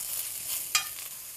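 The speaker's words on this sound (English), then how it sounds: "we'd end up boiling our mushrooms instead of sauteing them" Mushrooms sauteing in butter in a pan for a barley mushroom risotto, a soft steady sizzle with one brief scrape of stirring, quiet and close with no talking.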